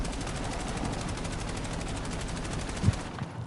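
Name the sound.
gunfire in the video game Call of Duty Black Ops 7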